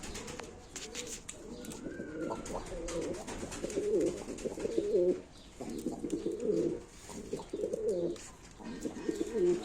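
Pigeons coo repeatedly in close, rhythmic bursts at a live pigeon auction, the low throaty calls overlapping and continuing throughout with little else heard.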